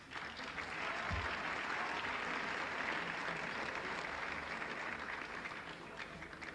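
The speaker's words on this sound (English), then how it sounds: "Please a special applause to our regular MBA students." Crowd applause at a university commencement for MBA graduates, a faint, steady wash of distant clapping that holds throughout.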